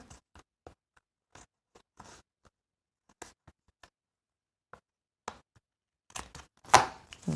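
Big scissors snip through vellum paper in a series of short, crisp cuts, sparse at first and then a quicker, louder burst of snips near the end.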